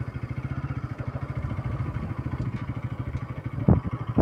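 A motorcycle engine chugs close by with a fast, even thumping rhythm as it idles while being parked in the shade on a hot day, and no one talks.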